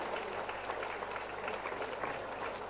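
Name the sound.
audience applause welcoming dignitaries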